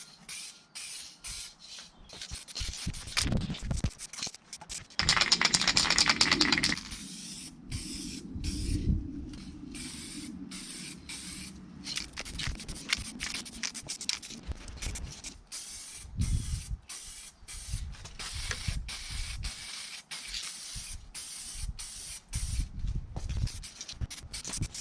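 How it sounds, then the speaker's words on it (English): Aerosol spray paint hisses in bursts onto Mk6 Fiesta engine bay parts such as the throttle body, with short pressurised sprays and one longer loud blast, between clicks and handling noises. "let's get to it and let's start spraying these."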